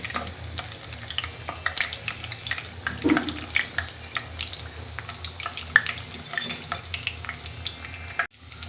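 Onion fritters (peyaji) frying in hot oil in a home kitchen give a steady, close sizzle. Scattered clinks and scraping sounds come through from nearby, and no one speaks.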